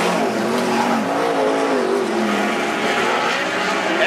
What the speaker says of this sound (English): So here comes the lead car.